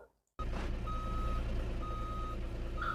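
A reversing truck sounds a steady, evenly spaced warning beep over a loud engine rumble, starting abruptly after a brief near-silent moment.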